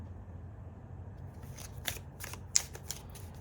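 Soft rustle and a few light snaps of tarot cards being shuffled and drawn during a reading, faint and close over low background hiss.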